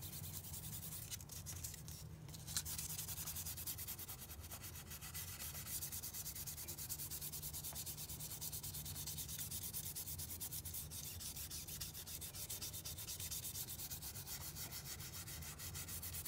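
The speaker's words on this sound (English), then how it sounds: "watch me sand all this down" A 22-inch wheel is hand-sanded to strip its shiny finish before painting, producing a steady, continuous abrasive scratching that stays even and close for the whole stretch, with no talking.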